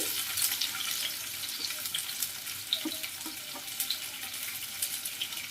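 Chopped garlic and onion fry in hot oil, a soft steady sizzle with light crackling pops and occasional stirring clatter, fairly quiet and without speech.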